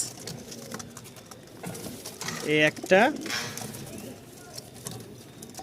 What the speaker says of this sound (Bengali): এখানে দুই জোড়া কবুতর আছে